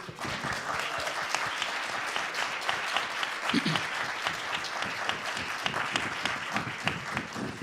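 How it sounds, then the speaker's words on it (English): Steady applause from a theater audience at a community event, dense and continuous from start to finish without pause, filling the room at an even, moderate level. "will you join me in giving a round of applause to Hal, who is here, please?"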